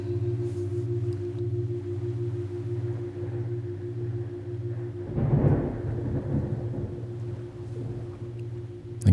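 A low, distant thunder rumble swells briefly midway, under a steady humming drone that continues throughout at moderate loudness.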